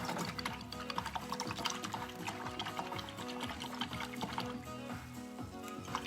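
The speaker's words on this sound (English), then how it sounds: "I am rinsing out my beautiful mama brush" A paintbrush is rinsed in a water container after painting, giving a faint, steady swishing and trickling. Small clinks of the brush against the container recur throughout.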